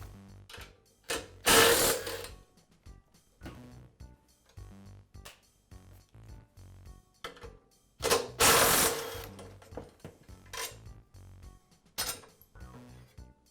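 A ratchet wrench works the nut and bolt holding the upper and lower handles of a Yard Machines lawn mower together. Bursts of close, crisp clicking ratchet strokes come with pauses between them, and a few louder handling clunks stand out.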